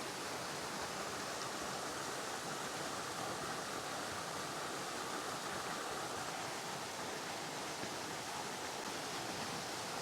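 A waterfall pours in a constant, dense rush of broadband white-noise-like roar, steady and unbroken throughout with no voices.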